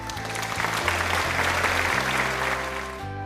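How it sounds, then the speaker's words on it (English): An audience claps for a student in a class, a dense, even round of applause at close range that carries through to the end with no talking. "Give her a round of applause."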